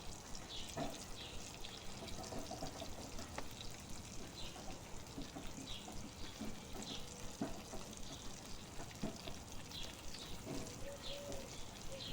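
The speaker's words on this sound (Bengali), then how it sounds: "টমেটো দিয়ে একটু নাড়াচাড়া করে নিয়ে এর মধ্যে দিয়ে দেবো লবণ হলুদ ও লঙ্কার গুঁড়ো" Chopped onions and tomatoes fry in a pan with salt, turmeric and chili powder while being stirred, giving a steady, close sizzle with soft scraping throughout and no voices.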